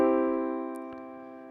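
A Roland FP-30X digital piano on its default tone sounds one sustained, rich chord that decays slowly with no further notes. It is close and moderately loud, with a faint click partway through.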